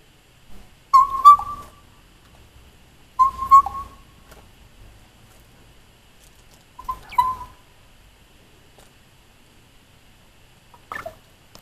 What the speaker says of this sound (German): Der hat mir noch ein Gute-Nacht-Lied gepfiffen auf dem privaten Campingplatz in Dawson City